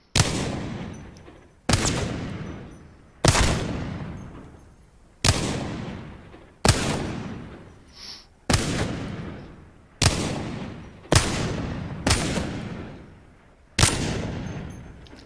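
Wingman pistol shots in Apex Legends ring out as about ten loud, sharp reports, each trailing off in a ringing decay, spaced roughly every one to two seconds in a steady, deliberate rhythm.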